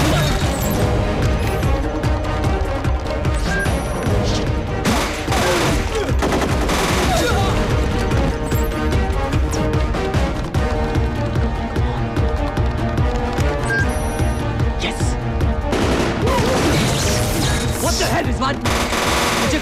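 Rapid bursts of automatic gunfire rattle continuously, dense and loud, with sharp crashes and impacts mixed in and little speech.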